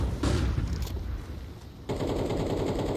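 Rapid automatic gunfire from the Counter-Strike 2 video game during a tournament match, a dense, loud, continuous rattle of shots with one sharp burst picking up again partway through.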